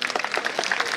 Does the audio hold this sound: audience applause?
yes